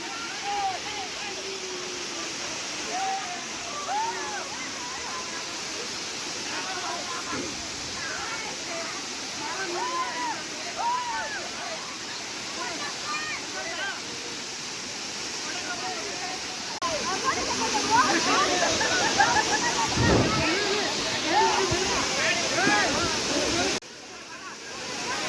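Kethanahalli Falls near Chikkaballapur roars in a steady broadband rush of falling water, growing louder and closer in the later part, while people talk over it throughout.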